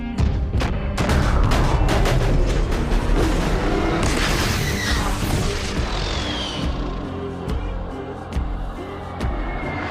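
Explosions from a naval fleet's carpet bombing in King Kong vs Godzilla roll together into a loud, dense barrage of deep booms and sharp cracking blasts that thins slightly toward the end.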